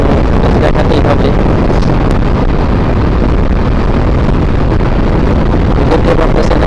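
Loud, constant wind buffets the microphone on a motorbike travelling at about 80 to 90 km/h across the Padma bridge, a dense roaring rush that barely changes and drowns out almost everything else.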